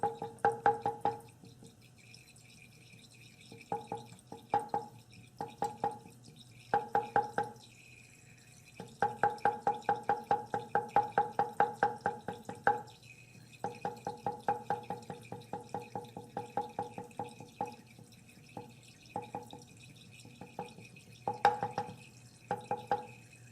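Drops falling from a burette during a titration with iodine and starch indicator, heard as quick repeated taps and ticks in bursts that speed up and slow down, fairly close and steady, with no voices.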